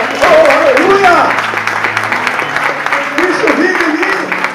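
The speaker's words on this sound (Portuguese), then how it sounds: "Então aplauda Ele." A church congregation breaks into applause, a dense wash of clapping from a large crowd heard beneath a preacher's loud, continuous speech.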